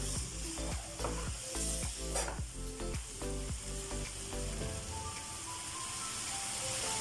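Chicken pieces sauté in a pan with a constant close sizzle, while repeated scraping strokes of a spatula stir them at a brisk rhythm during the first few seconds.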